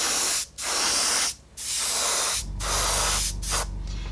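An airbrush sprays AK Interactive Shine Enhancer over the fuel tank of a scale model in a steady hiss, broken into four or five bursts by brief pauses, close and fairly loud.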